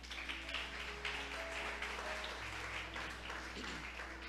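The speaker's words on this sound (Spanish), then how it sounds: "Vamos a darle un aplauso al Señor, hermano." A church congregation gives a steady round of applause, fairly faint and even, over a low constant hum, with little talk.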